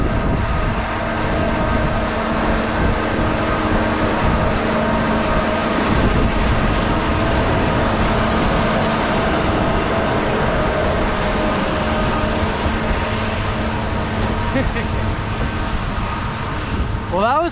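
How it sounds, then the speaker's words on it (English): Steady, loud rumble of a blue train rolling past nearby along the Appalachian Trail's Presidential Traverse, a continuous roar with rattling, holding constant throughout. "There's another one. Not even 5 minutes later. It's the blue train."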